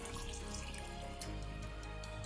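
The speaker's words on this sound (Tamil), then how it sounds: "இந்த ஸ்டேஜில் நம்ம பிரியாணிக்கு தேவையான அளவு தண்ணி ஊற்றிடலாம்" Water poured into mutton biryani masala in a pot, a soft continuous splashing trickle at close range, faint and unbroken for a couple of seconds.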